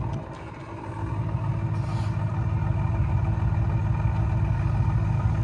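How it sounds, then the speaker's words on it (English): An Aston Martin DBX SUV exhaust rumbles at idle with a steady low drone, rising slightly after the first second and holding steady, fairly close, with no talking. "take a listen to this exhaust"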